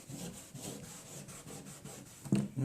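Hand scrubbing at a heavy rust stain on a plastic Halloween blow mold, a steady series of close rubbing strokes in an even back-and-forth rhythm, with a couple of louder bumps near the end.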